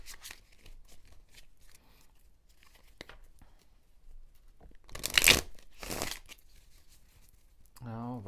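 Tarot cards shuffled by hand, two loud riffling bursts close up in the middle of a quiet stretch, with a voice speaking briefly at the very end.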